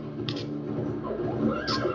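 Horse neighing in the video game The Escapists, a short whinny rising over a busy game soundtrack, moderately loud and close.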